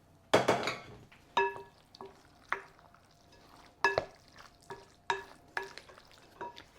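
A spoon stirs homemade cream of mushroom soup filling into green beans in a pan, giving a series of sharp scrapes and clinks at an irregular pace, close and fairly loud, with no talking.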